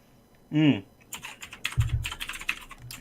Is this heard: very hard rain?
no